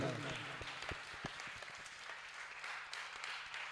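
Audience applause with a steady patter of clapping, overlapping a voice that trails off at the start.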